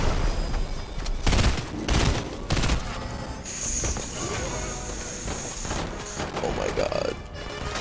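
Rapid video game gunfire in a battle royale match, bursts of sharp close shots in quick clusters during the first few seconds, then scattered shots and game effects under a talking player.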